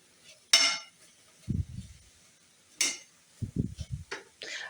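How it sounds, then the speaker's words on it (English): Food being tossed with butter in a pot after straining, giving a few scraping, clattering bursts of utensil against metal, close and moderately loud with quiet gaps between. "I like to toss it around and just fluff it up a bit after I strain it with the butter"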